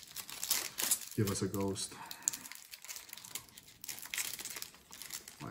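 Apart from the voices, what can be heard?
tearing open a Ghost From the Past trading card pack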